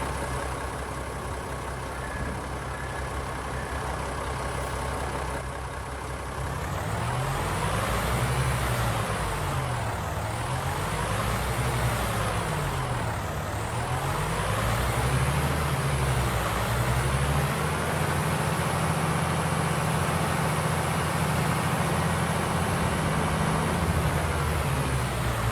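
A tractor engine in the video game Farming Simulator 22 drones steadily and grows louder and fuller partway through, with its pitch rising and falling as the revs change, and no talk over it.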